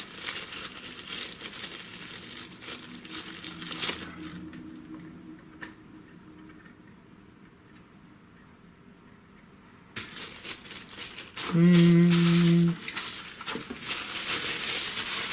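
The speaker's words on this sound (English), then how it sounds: "So much plastic bag." Plastic bag packaging crinkles and rustles in bursts while a MinsVision trinocular microscope is unpacked, with a quiet stretch midway, then louder crackling and a brief steady tone near the end.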